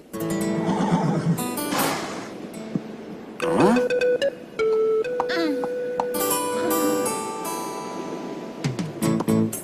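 A small cartoon horse whinnies and neighs in bright, repeated bursts, mixed with clip-clopping hooves and short squeals, loud and close with uneven pauses between calls.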